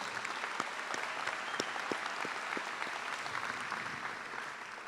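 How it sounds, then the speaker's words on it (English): Audience applause at a spring college commencement, steady crowd clapping throughout with individual sharp claps standing out, heard at a distance in a large space. "I'd like to give them a round of applause for managing this space."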